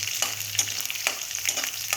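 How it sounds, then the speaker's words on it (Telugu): Garlic cloves, tempering spices and dried red chillies fry in hot oil with a close, steady crackling sizzle, punctuated by a few soft stirring scrapes. "ఆ ఎల్లిపాయని కొంచెం పచ్చివాసన పోయేదాకా వేగనివ్వాలి, అప్పుడు బాగుంటుంది."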